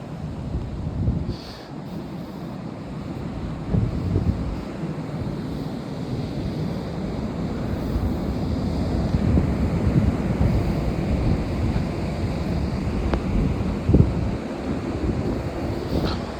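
Ocean waves wash steadily onto a beach at night as wind buffets the microphone, a continuous rumbling surf with gusty swells and occasional crackles.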